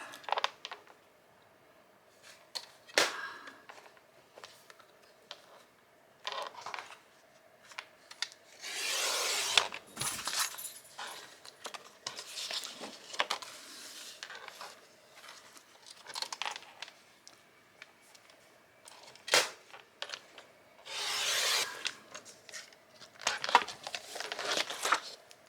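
An 8.5 by 11 sheet of paper is cut with scattered scraping and rustling strokes, interrupted by sharp ticks and brief louder swishes, close and fairly quiet throughout.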